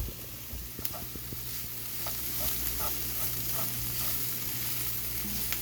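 Meat frying in a pan, a continuous close sizzle with faint crackles and small clinks, moderately quiet and with no talking.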